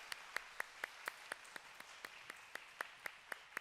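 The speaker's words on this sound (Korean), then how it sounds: "하나님께 감사와 영광의 박수를 올려드리겠습니다." A small church congregation at a Friday prayer meeting claps in a slow, steady rhythm. The claps come as about fifteen distinct, evenly spaced beats, faint and roomy.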